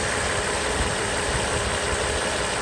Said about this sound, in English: You can see the engine runs nice, steady.